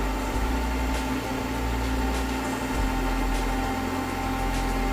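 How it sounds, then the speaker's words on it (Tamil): A mixer grinder hums and whirs steadily at high speed blending mint lemon juice, with a continuous grinding drone from nearby and no voices. "மூடி வச்சு மிக்ஸி ஆன் பண்ணி ஜூஸ் போட ஆரம்பிச்சிடலாம்"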